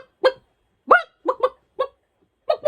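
A voice imitating a big brown hen, with six short clucking calls in uneven bursts, close and fairly loud against silence.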